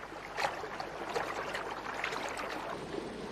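Red-winged starlings bathe in a river in a late-afternoon valley: a steady, rushing wash of flowing water with a few soft splashes rising briefly above it, with no voices.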